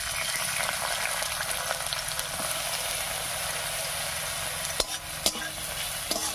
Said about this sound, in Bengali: এবার তেলের মধ্যে দেব পেঁয়াজ কুচি